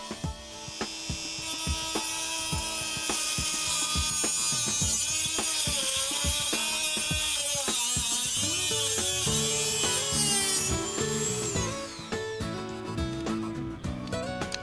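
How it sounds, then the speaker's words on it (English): A Dremel 3000 fitted with an abrasive wheel cuts through expanded metal sheeting for a gutter guard, giving a loud, steady, high-pitched grinding whine that holds for most of the stretch before pitch and tone shift near the end. "This is metal expanded sheeting that I'm going to cut with a Dremel 3000 with an abrasive wheel."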